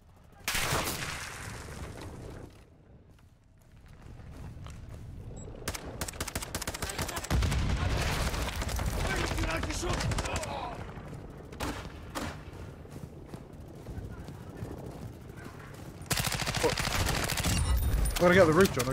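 Suppressed gunfire in the Call of Duty DMZ video game: repeated muffled shots and bursts ring out in the background, rising in intensity near the end, with people talking over the game action.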